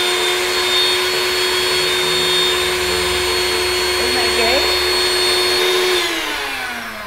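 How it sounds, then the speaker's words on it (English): A blender runs steadily at high speed, pulverizing sugar into powder with a loud whining drone. It holds for about six seconds, then its pitch slides down as the motor winds off. "I'm going to put the lid on, and we're going to just blend this"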